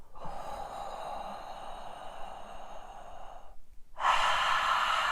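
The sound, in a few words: so hum breathing exercise, breathing in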